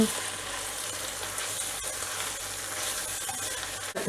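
Onion and carrot fry in a pan with a steady close sizzle and hiss, with soft scraping and stirring clicks underneath.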